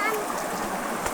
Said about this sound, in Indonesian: pas di pinggir sungai. Suaranya bikin tenang